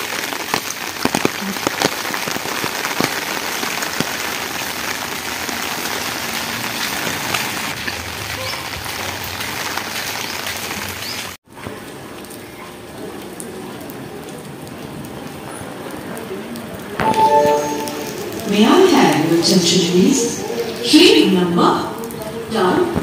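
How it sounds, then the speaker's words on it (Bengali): Steady rain patters loudly on a street for the first half, then a quieter stretch follows inside a crowded train with people talking nearby over a faint wash of rain. "বৃষ্টি হচ্ছে"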